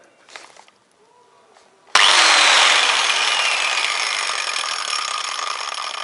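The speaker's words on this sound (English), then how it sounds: "That cuts a slot to a given depth in this timber." A biscuit jointer cutting a slot to set depth in timber: a faint click or two, then the motor bursts into a loud, close, steady whine as the blade bites, holding on to the end.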